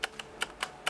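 Five crisp, clicky keystrokes on a Corsair K63 Wireless mechanical keyboard with Cherry red switches, close and evenly spaced, with no talking.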